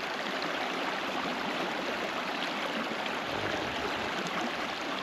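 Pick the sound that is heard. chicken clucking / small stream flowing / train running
small stream flowing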